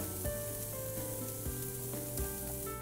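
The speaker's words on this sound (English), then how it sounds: "you can hear that sizzle" A steak sizzles on a hot Napoleon infrared grill, a dense, loud, continuous crackling hiss that holds steady, close up with no talking.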